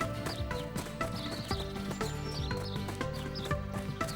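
A cartoon horse gallops with quick, steady clip-clop hoofbeats and a brief whinny, heard under lively background music in an animated children's story.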